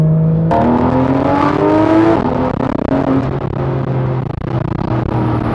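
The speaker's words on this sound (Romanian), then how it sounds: "cum frânează mașina asta, ce înseamnă fr- frânele carboceramice puse la treabă pe un drum de asta" A Porsche 911 GT3 RS (991.2) with carbon-ceramic brakes slows hard on a road, its engine loud and close, the tones stepping and sliding as the car sheds speed, with no voices.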